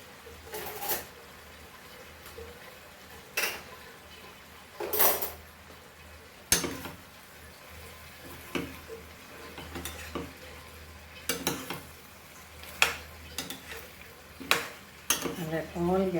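A utensil stirs beef, bok choy and pepper powder in a frying pan for a beef pepper stir fry. Sharp clacks and scrapes against the pan land every second or two over a soft, steady sizzle.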